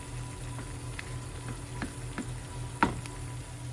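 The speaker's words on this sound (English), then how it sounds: "onions are cooking in some butter" Onions fry in butter and bacon grease with a soft, continuous sizzle, and occasional light taps and one sharper knock come from a utensil moving them about.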